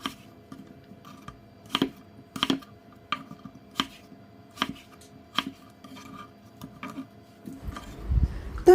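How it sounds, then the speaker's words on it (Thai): A knife chops mango on a cutting board, with sharp, evenly spaced knocks about every half second, close and clear against a quiet background. "หั่นเป็นชิ้นเท่าๆกันแบบนี้เลยค่ะ"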